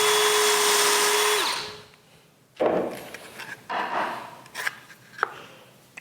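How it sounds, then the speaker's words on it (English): A drill bores a pin hole through a wooden saya sheath for a Japanese knife: a loud, steady whine for about a second and a half that winds down, then scraping and a few sharp taps. "So let's drill our pin."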